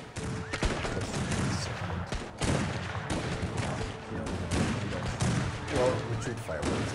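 Gunfire in the Wild West video game El Hijo: rapid bursts of shots and thuds over a busy game soundtrack, with a voice talking over parts of it.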